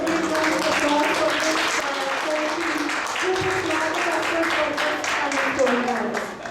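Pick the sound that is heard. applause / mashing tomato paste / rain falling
applause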